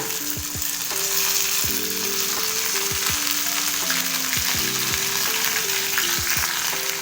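Steady sizzling of curry leaves frying in hot oil, a continuous crackling hiss with occasional sharper pops, close and fairly loud, with no voices.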